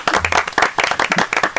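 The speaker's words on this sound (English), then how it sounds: "Round of applause." Audience applause in a radio studio, a short burst of clapping from a small group, close and fairly loud, with a brief low hum beneath.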